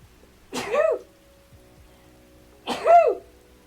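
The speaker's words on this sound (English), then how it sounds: "Sneeze. I apologize in advance." Two loud, close sneezes from a person, each a sharp burst about two seconds apart, with quiet between them.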